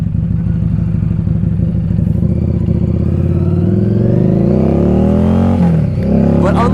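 A 2015 Harley-Davidson XG750 Street motorcycle engine runs close by with a throbbing idle, then revs up with a rising pitch before dropping back and climbing again near the end.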